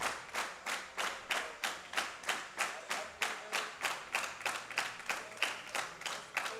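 A crowd at a world classic powerlifting championship, men's open 120 kg class, claps in a steady, loud rhythmic unison beat, about three claps per second throughout.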